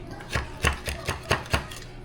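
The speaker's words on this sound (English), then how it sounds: "Oh, you hear that chop?" Food is chopped on a board during lasagna preparation, with six or seven sharp knife chops in an uneven rhythm, fairly close and moderately loud, over a soft room hiss with no talking.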